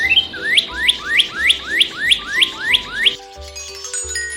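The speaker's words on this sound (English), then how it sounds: "The cardinal is a bright red bird with a pointy crest. Males are red, while females are brownish red. They sing cheerful tunes." A northern cardinal sings a run of about eight loud, clear upslurred whistles in a steady rhythm, then falls quiet, with some fainter bird calls and low rumble in the background.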